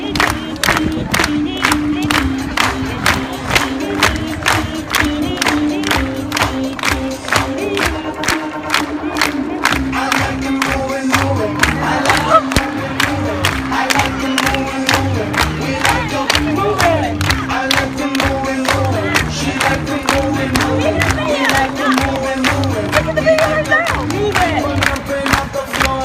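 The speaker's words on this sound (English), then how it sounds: "start clapping along to help him keep the rhythm" An audience claps in rhythm to a loud music track while a sea lion dances at a marine show, with steady crowd clapping and cheering throughout.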